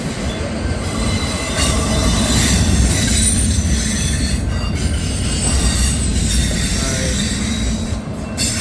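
A CSX freight train rolls past close by at Hood Siding with a rear DPU locomotive, a loud continuous rumble of rail cars with scraping wheel squeal throughout and no talking.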